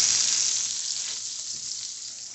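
Sausage sizzles loudly in a frying pan, a dense, steady crackling hiss that eases off slightly over a couple of seconds, with no voices.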